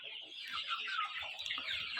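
Chickens and roosters cluck softly in a coop on a small farm, a faint, continuous, overlapping chatter of birds at middle distance.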